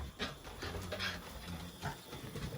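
Close dog panting in quick, uneven breaths with soft whimpers mixed in, steady and fairly quiet throughout.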